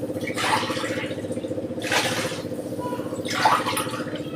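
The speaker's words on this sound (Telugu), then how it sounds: "5 గ్లాసుల వాటర్ చక్కగా దీంట్లో యాడ్ చేశాను." Water is poured into a pot of soaked rice for vegetable biryani in three short splashing bursts, set against a steady low mechanical hum.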